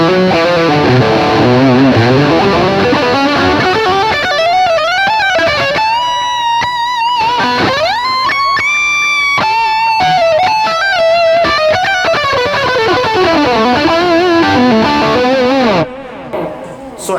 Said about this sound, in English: We turn on the drive,